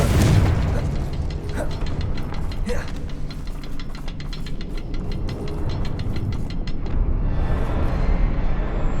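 Confringo fire spell explosion in Hogwarts Legacy, a booming blast followed by crackling bursts and rumbling game combat noise, loud and continuous over several seconds.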